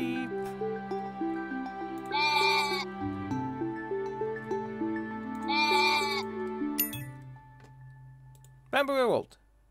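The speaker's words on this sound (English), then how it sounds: "And now they're hunting the sheep." Sheep in the video game Equilinox bleat in short wavering calls at intervals, two matching bleats a few seconds apart and a higher, sharper cry near the end, over a soft sustained musical background.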